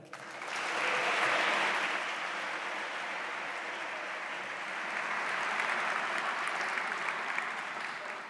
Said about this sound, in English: Let's go ahead and give Fiona another round of applause